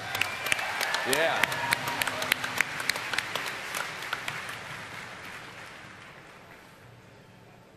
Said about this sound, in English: Let's take a round of applause for Paragon.